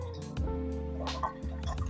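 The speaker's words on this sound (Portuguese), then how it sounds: "eu utilizo ela para colocar água filtrada" Filtered water from a filter on a kitchen sink pours onto sprouting seeds in a jar, a thin trickle with drips and splashes over a steady low hum.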